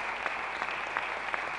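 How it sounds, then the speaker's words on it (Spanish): At a Women's Day ceremony for signing agreements, an audience applauds the women mayors with a brief burst of steady, even clapping that sounds fairly distant and soft. No voices come through. "pido un aplauso enorme para nuestras intendentas hoy, en el Día de la Mujer"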